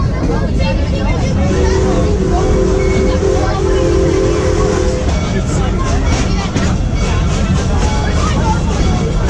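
A Busch Gardens park train rumbles steadily toward the Congo station, wheels and track noise continuous under crowd chatter and a nearby voice, with a brief sustained tone midway.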